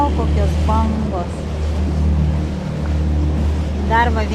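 A motorboat passes on the water near a Stockholm waterfront, its low engine drone running steadily beneath wash and wind, while a person talks at the start and again at the end.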